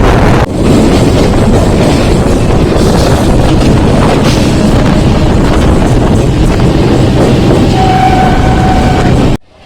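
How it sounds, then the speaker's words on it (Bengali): A suburban local train on the Sealdah–Barasat line pulls into Barasat station with a steady, loud rumble and rushing wind noise that drops off abruptly at the end; no one speaks. "আমাদের ট্রেন তার সোর্স বারাসাতে এসে পৌঁছালো 11:20-তে"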